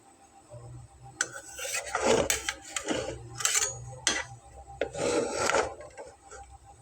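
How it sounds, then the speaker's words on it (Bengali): A heavy frying pan scrapes and slides on the stove while an oil-free vegetarian Bengali breakfast cooks, giving several rough, rasping scrapes and knocks in an irregular rhythm, close and fairly quiet. "তো ভারী ফ্রাই প্যানটা সরে যাচ্ছে, এটাকে আমি একটু উল্টে দেব।"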